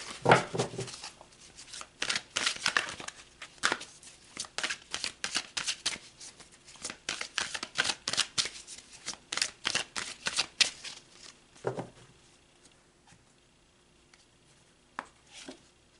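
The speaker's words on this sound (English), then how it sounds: "Let's pull some more cards and see if Spirit's going to bring some other things out" Tarot cards are shuffled and drawn close up, a dense run of riffling, flicking bursts that pauses near the end for a few softer card slaps, with no voice present.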